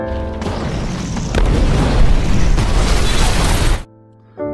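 A van packed with a bomb blows up as a film effect: a loud, sustained explosive roar of about three and a half seconds that swells after a sharp onset, then cuts off abruptly to a low hum.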